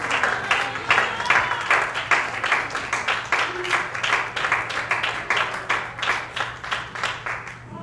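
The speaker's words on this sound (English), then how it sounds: "Will you clap your hands unto the Lord?" A church congregation claps hands in a steady, rhythmic beat, loud and close, with a faint low hum underneath throughout.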